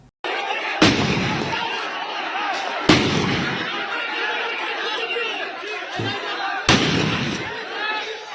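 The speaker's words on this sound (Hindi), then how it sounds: "स्थिति के नियंत्रण में लेब प्रहरी 8 राउंड अश्रु गैस आ 10 राउंड हवाई फायर केने छल।" Police firing rounds into the air to break up a protest crowd, three sharp loud reports spaced a couple of seconds apart over a constant crowd roar and chatter.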